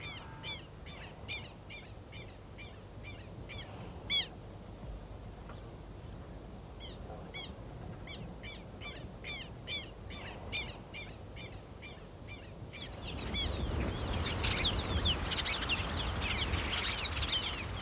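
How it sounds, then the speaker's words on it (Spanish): Birds chirping and calling in a marsh grassland in Rocha, a repeated series of sharp, rhythmic calls over a steady background that swells into a denser, louder chorus of chirps near the end. "En el pajonal, los pájaros refuerzan su estructura social con un gorjeo incesante"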